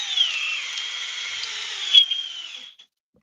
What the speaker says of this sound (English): This is the strongest drill we've seen tonight